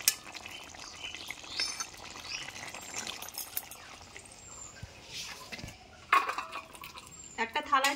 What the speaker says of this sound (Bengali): এবার আমি কড়াইটা নামিয়ে নেব।